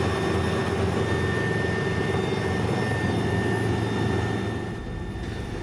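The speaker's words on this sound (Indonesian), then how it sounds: "Evakuasi dilakukan menggunakan helikopter milik TNI." A military helicopter used for an evacuation in Timika, Papua, roars with a loud, continuous engine and rotor drone that holds steady, then eases slightly near the end.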